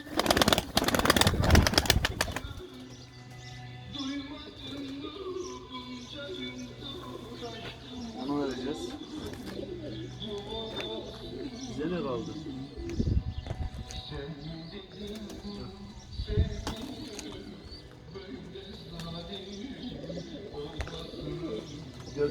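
Pigeons kept by a breeder coo softly indoors with occasional chirps and wing flutters, under a voice talking throughout; a loud burst of flapping opens the scene.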